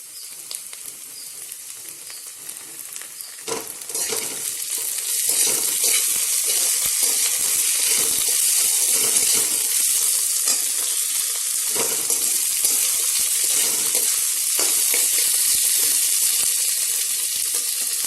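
Onions frying in a pan as ginger garlic paste goes in, cooking chicken with white gourd: a steady close sizzle that grows louder after a few seconds, with occasional stirring scrapes and no talk.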